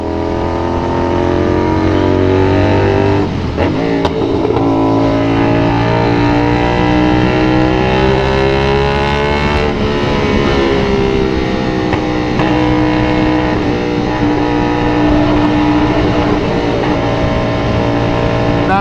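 A CFMoto 450SR motorcycle fitted with a full exhaust system cruises along an expressway, its engine droning steadily and loud throughout, with a shift in pitch as it changes gear partway through.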